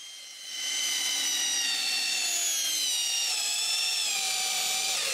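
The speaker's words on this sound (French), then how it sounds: "Ensuite, c'est le temps de tout visser le nouveau dessus du puits." A power drill drives screws to join cut wood pieces for a new well cover at a cottage, its motor whine loud and sustained with rising and falling pitch and no talk.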